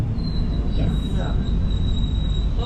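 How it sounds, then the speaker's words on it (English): A Melbourne City Circle tram runs on rails with a constant low rumble and a thin high wheel squeal, heard nearby throughout, with faint voices in the background. "Oh look, there's another City Circle Tram."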